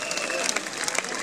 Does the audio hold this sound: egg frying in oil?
no